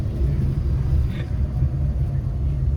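A steady low engine rumble from a moving car on a night drive to Sudhagad Fort, constant and close, with road noise filling the whole stretch.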